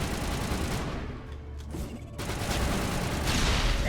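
Turret gunfire in the game Mass Effect, a dense continuous barrage of rapid shots with a brief dip midway before resuming louder, heard without any talking.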